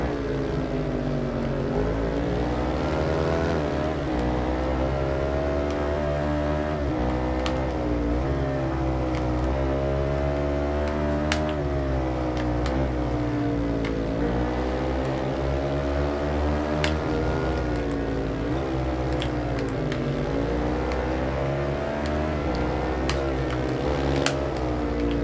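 A Yamaha XJR 1300 motorcycle engine in the racing video game Ride 2, droning loud and steady throughout while its pitch climbs and drops through repeated gear changes.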